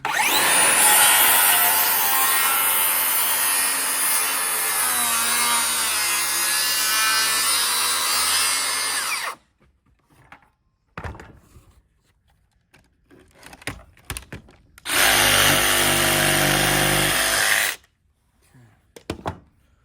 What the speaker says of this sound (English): I'm gonna cut this, and then I gotta use the jigsaw to clean it up.